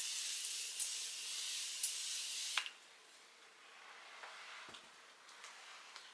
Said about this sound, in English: I'm using Morphe, this continuous setting spray